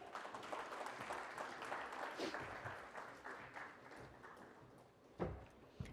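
Applause from an audience welcoming a panel at a conference session on SMEs and innovation, a steady moderate patter of clapping throughout with one sharper clap near the end.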